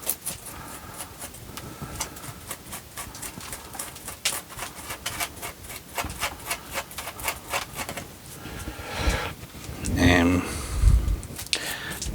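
Liverwort being scraped off the back of an African acacia-style juniper bonsai, a fast run of light scratching strokes, close and fairly quiet, with talking over it.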